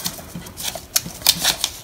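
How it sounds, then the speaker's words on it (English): Scissors cutting around the top of a paper craft, giving a quick series of soft, crisp snips and rustles close by, with no talking. "So now you just go around the top, cutting around the top,"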